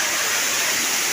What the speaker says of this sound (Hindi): ऊपर से पानी गिर रहा है